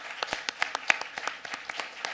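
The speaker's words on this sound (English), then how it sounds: "give a round of applause to our panel" Sparse, scattered clapping from a small audience for a panel of creators at a discussion event, individual claps clearly separated and fairly quiet, lasting about two seconds.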